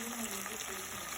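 Chicken browning in a pan for pollo en chile verde gives a steady, fairly loud sizzle and crackle of frying, with no break across the short stretch.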